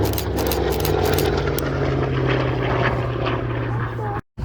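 A light propeller aerobatic aircraft of roughly 750 kg manoeuvres fast at Sywell Airshow. Its engine roars loud and continuous with a steady droning tone, then cuts out for a moment near the end.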